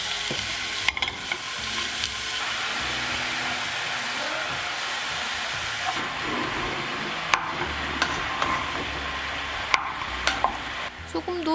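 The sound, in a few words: mushrooms added in portions to a pot, stirring and sizzling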